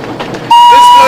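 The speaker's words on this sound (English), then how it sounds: "This blows the whistle" A steam train's whistle sounds abruptly after a moment of rumble, a loud, sustained high tone close by that holds to the end.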